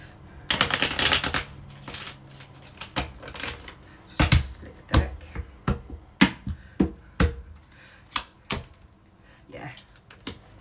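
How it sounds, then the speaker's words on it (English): Tarot cards shuffled and drawn by hand: a dense riffling burst at the start, then scattered crisp taps and slaps of single cards being pulled and laid down, close up. "I'm going to just pull some clarifier cards for you guys in the heart space here"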